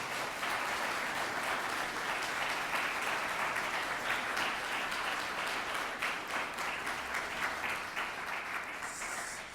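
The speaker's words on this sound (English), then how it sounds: "Let's take a moment to give them a round of applause and appreciate them." An audience at an end-of-year school celebration applauds steadily and loudly for the faculty and staff. The clapping is dense and continuous and keeps up at the same level for nearly ten seconds.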